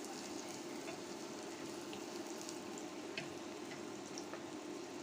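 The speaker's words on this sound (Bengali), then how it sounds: "পটলগুলো একটু উল্টিয়ে পাল্টিয়ে লাল লাল করে ভেজে নিব" Pointed gourd (potol) pieces fry in a pan with a steady, soft sizzle and crackle that runs evenly throughout, with no talking.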